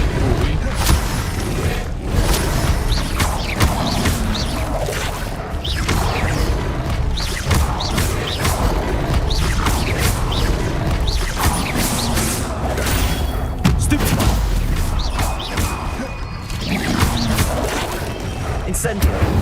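The Incendio fire spell is cast again and again in Hogwarts Legacy, with loud bursts and mechanical clunks over a dense, constant bed of game effects while a voice talks throughout.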